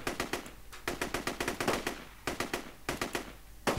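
Rapid automatic gunfire in a D-Day PC game, bursts of sharp, evenly spaced shots broken by brief pauses, crisp and close with no talk over it.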